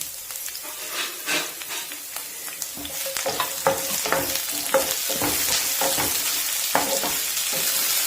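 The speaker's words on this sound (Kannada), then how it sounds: "ಅದ್ರ ಜೊತೆಯಲ್ಲೇನೆ ಈರುಳ್ಳಿ ಹಾಕೋಣ, ಫ್ರೈ ಮಾಡ್ಕೊಳ್ಳೋಣ" Garlic and onion fry in hot oil in a pan for a Tamil Nadu–style khara chutney, giving a steady close sizzle broken by repeated stirring scrapes throughout, with no talk.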